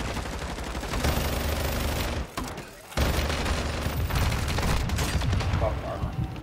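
Sustained, loud minigun fire in Modern Warfare 2 on veteran difficulty, a dense continuous roar that breaks off briefly in the middle before resuming, with game noise and voices mixed in.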